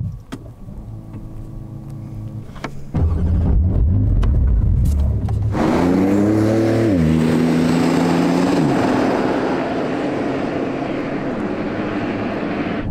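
A 2021 Porsche 911 Turbo S of the 992 generation starts up and drives off: quiet idle first, then a loud engine surge with rising revs and a gear change, settling into a steady, sustained drone.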